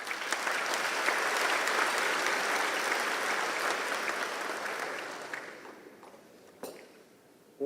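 Audience applause at a formal European Day dinner banquet in Taipei, a dense, steady round of clapping from a large room that gradually thins and tapers off over several seconds.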